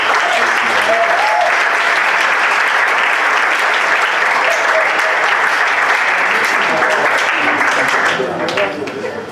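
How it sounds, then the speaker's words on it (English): An audience at the Togo National Debate Championships final applauds in a loud, sustained wash of clapping that runs for about nine seconds before easing slightly at the end, with some voices mixed in. "Please once again clap for."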